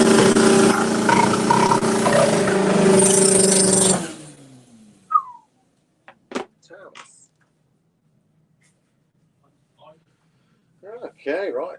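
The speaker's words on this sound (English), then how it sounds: "We've got a second fast diesel in a row." A fast diesel car accelerates past loud and close, its broadband engine roar and drone sustained for about four seconds before cutting off sharply, followed by quiet with scattered voices talking.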